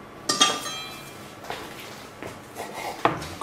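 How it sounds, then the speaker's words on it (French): Veal tendron cut into small pieces with a knife in a kitchen, giving a few sharp knocks of the blade against the board at irregular moments, with quieter handling in between and no voices. "on récupère les morceaux de tendron et on va les débiter en petits morceaux"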